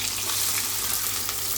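Onion with green chillies and cumin frying in hot oil while being stirred, a steady dense sizzle that holds loud and close for the whole stretch, with no talk.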